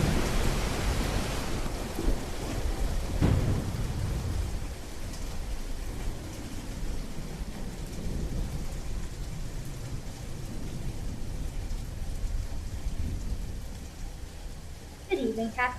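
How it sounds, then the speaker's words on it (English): A staged thunderstorm effect in a theatre production of Julius Caesar: a loud thunderclap rolls out early, then a long, steady rumble and hiss of rain, with a voice breaking in at the end. "Severe thunderstorms have brought floods."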